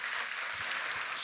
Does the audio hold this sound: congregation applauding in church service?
yes